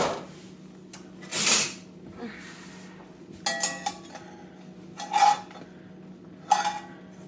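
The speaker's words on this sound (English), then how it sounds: "I'm gonna go ahead and take them all out of the pan" Biscuits are lifted from a hot cast iron pan, with scattered metallic scrapes, clinks and knocks of utensil against pan. The bursts are close and irregular, separated by quiet pauses, and no one speaks.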